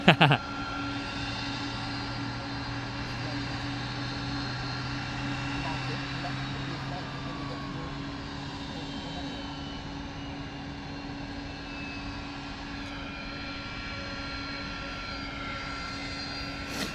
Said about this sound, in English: Love hearing the spool ups of the engines behind us.